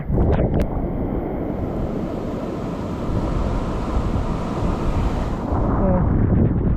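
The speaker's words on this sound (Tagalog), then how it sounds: "ganyan na lang, pabugso-bugsong hangin na lang." Strong gusts of wind roar and buffet the microphone continuously, a loud rushing blast that swells and eases slightly over the whole stretch.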